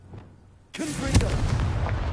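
Confringo blasting spell explosion in Hogwarts Legacy on PS5: after a quiet moment, a sudden loud blast bursts in and then rumbles on with a dense, crackling roar.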